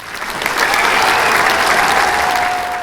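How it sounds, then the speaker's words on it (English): A loud, sustained burst of wild applause from a big crowd, used as a sound effect in a children's story, swelling in and holding steady with a faint tonal ring underneath and no talking. "all the walruses rose to their flippers and burst into wild applause"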